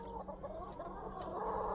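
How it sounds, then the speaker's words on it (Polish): A wild bird perched at the top of a walnut tree in a vegetable garden gives a run of rapid, clucking calls, fairly faint and distant, with no talking. "Gdzieś słyszę taki mocny dźwięk ptaka."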